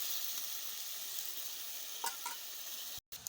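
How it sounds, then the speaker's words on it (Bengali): Masala spice paste frying and bubbling steadily in a pan, a loud continuous sizzle with a couple of soft stirring clinks near the end and a brief dropout. "তো টকবক করতেছে মশলাটা, একটু কষানো হোক"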